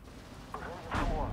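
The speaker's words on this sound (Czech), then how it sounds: "Někdo na mě střílí?" Gunfire in the war game Steel Division 2: two muffled, booming bursts, the second louder and longer, over a low rumbling battlefield background.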